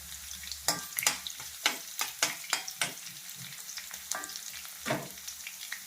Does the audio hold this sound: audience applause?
no